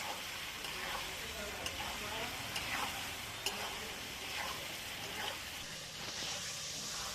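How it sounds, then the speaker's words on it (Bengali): Chopped liver pieces frying and being stirred in a pan for a spicy chorchori, a steady soft sizzle with faint scraping strokes of a spatula throughout, fairly quiet and close. "এই মেটাটা দিয়েও বেশ সুন্দর করে 5 মিনিটের মতো কষে নেব।"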